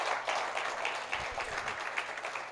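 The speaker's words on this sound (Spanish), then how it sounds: "Dele un aplauso al Señor, por favor" Church congregation clapping for the Lord, a brief burst of dense applause, fairly faint and distant.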